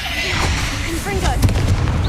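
Fiery Confringo spell blasts pop and boom in a Hogwarts Legacy fight, with a rumbling low impact and sharp bursts near the end. Scattered voiced game sounds run under the explosions.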